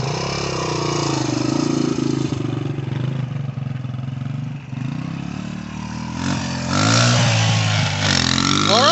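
A Suzuki DR-Z125 dirt bike rides down the block, its small single-cylinder engine droning at moderate distance, then revving up and shifting with rising pitch toward the end.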